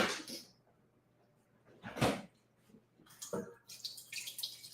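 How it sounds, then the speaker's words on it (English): Water poured into a pressure cooker in a kitchen: several splashy, gurgling bursts separated by short pauses, close and moderately loud, ending in a steadier trickling stream. "with the pressure cooker, we're going to pour water in here, and then we want to get it to a boil"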